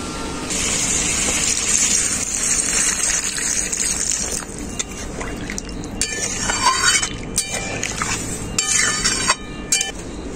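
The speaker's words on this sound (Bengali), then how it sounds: "এখন আমি পরিমাণ মতো জল দিয়ে দেব।" Water is poured into a cooking pan of potato curry (aloo dum) on the stove, a loud continuous gushing and sizzling pour with clattering and shifting splashes toward the end, no voices.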